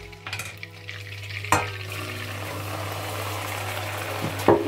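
Flour cooks in melted butter in a pan, giving a bright steady sizzle with a few sharp scraping knocks of stirring mixed in.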